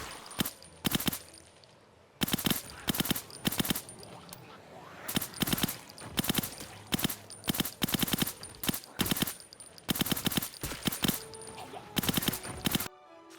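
Suppressed 5.56 rifle fire in a video game, in repeated rapid bursts of sharp cracks with brief pauses between them, loud and up close.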